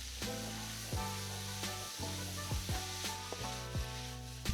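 Minced garlic frying in a pan for japchae, a soft steady sizzle with frequent clicks and scrapes of stirring throughout, fairly quiet overall.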